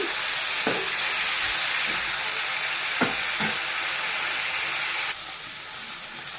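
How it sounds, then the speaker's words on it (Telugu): Tomatoes fry in oil in a pan while being stirred, a continuous close sizzle and hiss broken by several soft scraping stirs, the sizzle easing slightly near the end. "మధ్య మధ్యలో ఇలా కలుపుతూ ఉండాలండి, లేకపోతే ఇవి మాడిపోతాయి"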